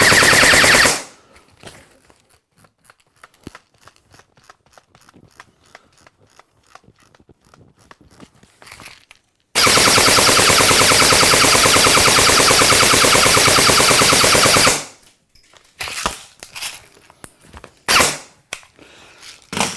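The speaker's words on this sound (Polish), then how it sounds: "a teraz ogień ciągły." An M4-style airsoft rifle, Amoeba AM-008, fires in a long continuous full-auto burst, a loud rapid rattle lasting several seconds, with scattered single clicks and mechanical sounds before and after.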